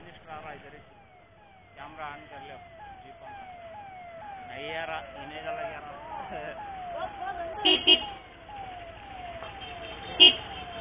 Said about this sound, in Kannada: ಇವರು ಇದು ಸೈರನ್ ಹಾಕೊಂಡು ಹೋಗ್ತಾ ಇದಾರೆ ಅಂತ ನೋಡ್ತಾ ಇದೀರಾ?